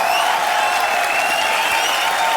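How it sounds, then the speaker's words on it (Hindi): A studio audience on a TV comedy show gives loud, steady applause to welcome guests, a dense unbroken wash of clapping and crowd noise with some music faintly underneath. "जोरदार तालियों से स्वागत।"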